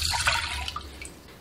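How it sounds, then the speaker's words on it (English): Cold water poured into a cooking pan, a steady splashing pour that is loudest at the start and thins toward a faint trickle, alone and close. "I'm going to put 1 cup of cold water in the pan"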